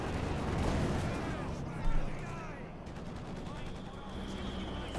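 Distant machine gun bursts and field gun fire in a Company of Heroes 2 Wehrmacht versus Soviet multiplayer battle, a steady crackle of gunfire with one heavier thump, heard under a commentator's voice.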